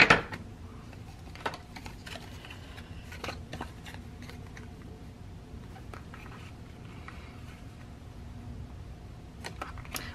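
A straight edge cut into paper while making travel notebook inserts: a series of crisp snips and crunchy cuts at irregular intervals, close but fairly soft over a low room hum, with no talk.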